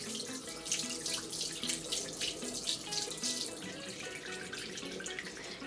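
Tap water runs steadily into a sink while a makeup brush is rinsed under it, a close continuous splashing hiss with small shifts in texture and no talk.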